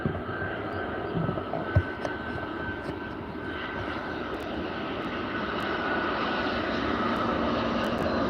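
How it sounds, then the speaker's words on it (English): An EasyJet airliner arriving at Liverpool Airport makes a steady broadband engine roar that builds gradually as it approaches, with no talking. "we now got our first arrival, and it's an EasyJet."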